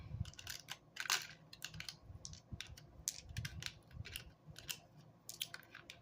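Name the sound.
dice rolling through a mini dice tower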